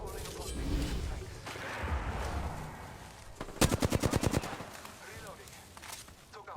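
Enemy gunfire in the Apex Legends video game: a rapid automatic burst of about a dozen sharp shots in a steady rhythm, set amid game noise and mixed with talk.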